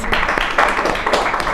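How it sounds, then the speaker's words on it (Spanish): Brief round of audience applause during a talk on finding one's voice and creating characters, a moderate clatter of many hands with faint voices mixed in. "Un aplauso."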